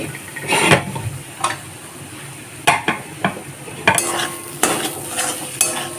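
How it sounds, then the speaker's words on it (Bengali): Spatula scrapes and knocks against a pan of carrots over a steady low-flame sizzle, in irregular strokes, close and fairly loud. "গ্যাসটাকে লো ফ্লেমে রেখে গাজরটাকে নাড়াচাড়া করতে করতে"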